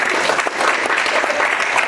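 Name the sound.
audience applause for a speaker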